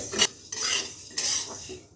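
A spoon scrapes and stirs dry broken wheat (dalia) as it roasts in a pan without oil: a few distinct raspy strokes up close, with short pauses between them.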